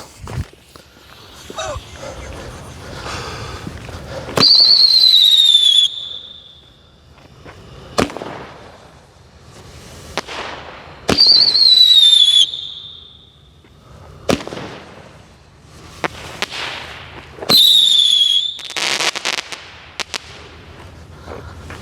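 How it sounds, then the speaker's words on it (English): A Brothers Crazy Diamonds large bore Roman candle fires five shots outdoors, each a sharp bang, several followed by a loud whistling hiss, spaced several seconds apart, with occasional lighter pops and footsteps between. "These are just the large bore Roman candles. Crazy Diamonds is the first one."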